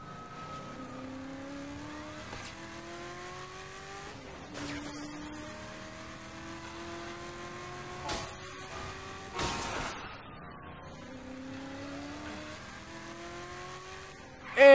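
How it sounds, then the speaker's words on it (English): A police car engine in Saints Row: The Third revs and shifts through gears repeatedly, rising in pitch with each run, with occasional sharp clanks and crashes. "this police car can haul ass"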